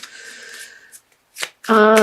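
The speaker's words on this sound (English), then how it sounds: "So I feel like these want to be shuffled." Tarot cards riffle and slap together in a few quick bursts, separated by short pauses; brief vocal sounds appear at the end.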